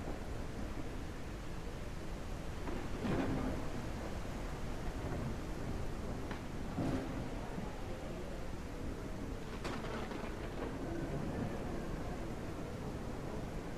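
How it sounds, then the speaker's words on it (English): A heavy thunderstorm rolls through steady rain, the broadband hiss unbroken from start to finish, with several thunder rumbles and cracks swelling out of it; no voices are heard. "Maybe really just a very heavy lightning storm."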